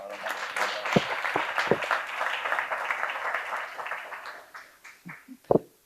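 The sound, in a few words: audience applauding the Archbishop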